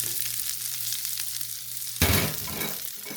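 Cabbage and garlic frying in a pan, a steady sizzle that flares louder partway through as the food is stirred or tossed, then settles back to a continuous hiss, with no talking.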